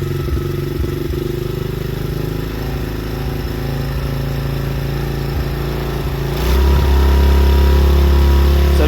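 A small engine is started with the choke on and runs close by with a steady, rough mid-pitched drone, then surges to a louder, deeper note partway through.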